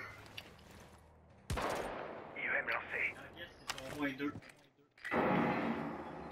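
Gunfire in a first-person shooter video game, with bursts of shots near 1.5 s, 3.8 s and 5 s over a continuous game background, while someone talks in French.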